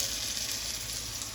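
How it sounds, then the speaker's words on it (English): Crushed tomatoes hit a hot pan of spaghetti sauce, a steady close hissing sizzle that fills the short moment with no voices. "now we're adding the crushed tomatoes"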